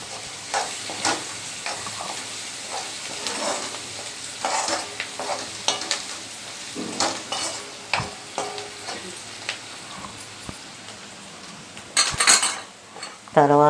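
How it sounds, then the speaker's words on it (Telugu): Vegetable curry with turmeric is stirred in a frying pan, a spoon scraping and clinking against the metal over a constant sizzle, with louder knocks near the end and brief talk at times. "పసుపు వేస్తున్నానండి, వేసి కలబెడుతున్నానండి."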